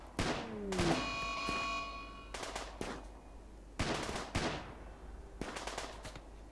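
Colonists in RimWorld open fire on a wild animal, with repeated sharp gunshots in bursts through the clip, loud and close, with ringing tones between shots and no talk.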